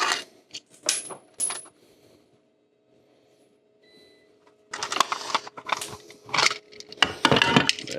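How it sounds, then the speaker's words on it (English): A small screwdriver prying a knockout ring from a metal electrical box for a 240-volt 14-50 outlet: a few sharp metallic clicks, a quiet pause, then a dense run of scraping, rattling clinks close by. "Just gonna stick a screwdriver in there. Need a little screwdriver. Work that out of there."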